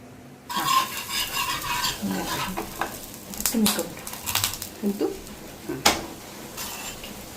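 Leftover chapati roasting in a little oil in a pan, a soft sizzle broken by the scrape and clink of a spatula stirring against metal, the knocks irregular and close.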